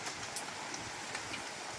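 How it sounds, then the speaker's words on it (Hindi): Heavy rain pours down as a dense, even hiss with no letup, moderately loud and heard alone. "झमाझम बारिश।"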